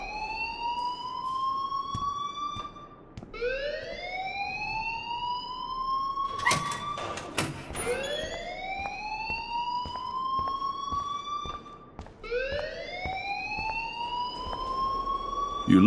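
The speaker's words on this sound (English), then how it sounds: "please turn off that alarm since that's your job." A fire alarm rings inside the video game Life is Strange, a loud electronic whooping tone that sweeps upward and repeats every few seconds, with a brief clatter of other game noise partway through.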